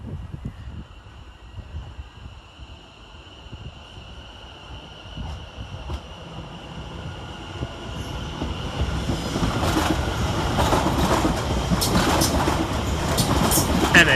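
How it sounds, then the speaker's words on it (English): A London Overground Class 710 electric train, unit 710118, pulls out of Bethnal Green station, its rumble and wheel noise swelling steadily louder over several seconds with a high squeal and rhythmic clacking. "The next train out is 710118, working the 1906 London Overground service from Cheshunt to London Liverpool"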